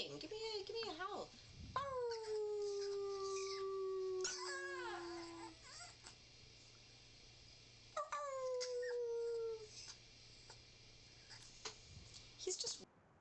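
Pomeranian dog giving several drawn-out, wavering howls and squeaky whimpers, close and fairly loud, pausing between bursts with a steady low hum underneath.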